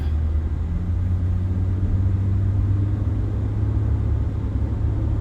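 Steady low engine rumble from inside a car driving slowly past the scene of a road accident, a continuous drone with no talk.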